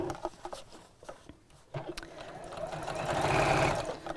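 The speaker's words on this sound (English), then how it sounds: "if you have a denim needle, then use that on your sewing machine" A sewing machine with a denim needle stitching through thick fabric layers of a cross-body bag, starting with a few slow stitches and then building into a loud, fast, steady whirring run.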